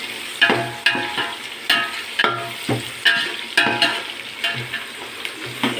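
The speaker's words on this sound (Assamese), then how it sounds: "এইটো লৰাই থাকিব লাগিব, গল্ডেন ব্ৰাউন আহিব লাগিব আপোনাৰ বস্তুটো" Spiced food frying in a pan is stirred in regular strokes, about two scrapes a second, until golden brown. A steady sizzle runs beneath the close, rhythmic scraping, and no voice is heard.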